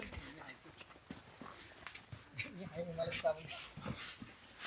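A tied-up dog whines and yelps close by in short bursts while people talk over it, at a house on a high hilltop.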